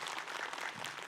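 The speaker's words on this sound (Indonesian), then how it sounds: "Tepuk tangan dulu yuk." A short burst of applause from a small group at an Islamic talk show, clapping briskly, faint and continuous.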